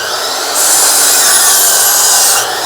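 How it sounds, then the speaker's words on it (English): A saw cutting a small, thin piece of wood for a rustic clock, running as a steady, loud buzzing whine for about two seconds before dropping back to a lower hum. "because I am cutting such a small piece here, make sure we keep our saw down, let the blade come to a complete stop before we lift it up"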